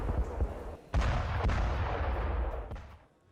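Explosions from Israeli air strikes on towns in Lebanon: a few heavy booms and sharp blasts with rumbling decay, fairly distant, then a fading roll at the end.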